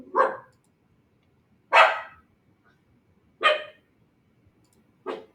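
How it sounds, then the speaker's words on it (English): A dog barking from inside its crate indoors, four single loud barks spaced about a second and a half apart, with quiet between them. "Sorry, my dog is in the crate."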